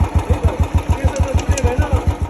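A motorcycle engine with its silencer fallen off runs close and loud, giving a rapid, even, throbbing exhaust pulse of evenly spaced beats.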